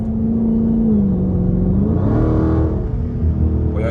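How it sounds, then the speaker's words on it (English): A Dodge Charger Scat Pack engine hums low and steady, then swells briefly as it revs a little before settling back, heard from inside the car while driving in the city at night. "y'all hear that quarter intake"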